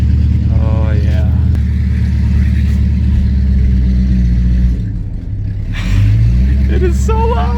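Car engine idling and revving through an aftermarket muffler exhaust, a loud deep drone that swells briefly near the end, with people talking and laughing over it.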